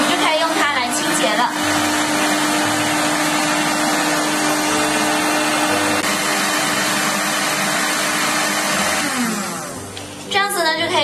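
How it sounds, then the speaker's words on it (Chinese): A hair dryer runs at high speed, repurposed as a makeshift vacuum to pull dust out of small phone holes; a steady, loud whirring drone holds for about ten seconds before dipping near the end. "我们将它放在 吹风机的尾部，然后就可以打开吹风机"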